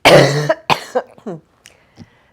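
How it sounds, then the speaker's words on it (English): A harsh, loud cough up close, followed by a few smaller coughs and throat-clearing sounds that fade off into quiet. "My cough is getting better, but I still have it."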